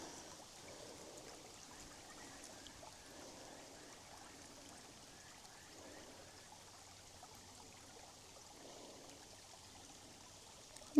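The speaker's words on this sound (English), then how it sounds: "Here's a creek." A small, low-flowing creek on an Australian farm in winter trickles faintly and steadily outdoors, a soft continuous babble with no voices.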